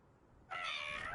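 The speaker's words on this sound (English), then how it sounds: "That was my kitten on my back." A kitten gives a single clear meow after a brief quiet moment, close and fairly loud, with no talking.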